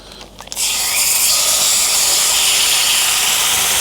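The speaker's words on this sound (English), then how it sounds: "Can you hear that sizzling?" A loud, steady sizzle of fish and chips frying, a dense hiss that bursts in after a brief clatter and continues evenly.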